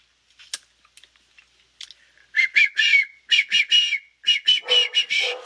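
Several short, breathy whistled notes in quick bursts, airy and wavering rather than clear, close by with small clicks between phrases.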